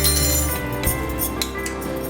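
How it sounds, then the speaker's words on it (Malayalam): A spoon stirs lemon juice in a glass vessel, producing a few bright clinks against the glass over a steady low background hum, close and fairly loud, with no speech. "ഇത് നമുക്ക് വേറൊരു പാത്രത്തിലേക്ക് ചേർത്തിട്ട് അതിലേക്ക് ഈ ജ്യൂസിൽ നിന്നും കുറച്ച് ഒഴിച്ച് ഇളക്കാം."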